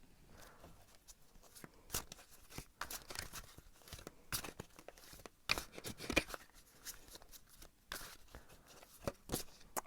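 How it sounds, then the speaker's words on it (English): Tarot cards being shuffled by hand, a series of soft crisp riffles and slaps in irregular bursts, close and fairly quiet, with no talking. "I'm going to shuffle a bit more"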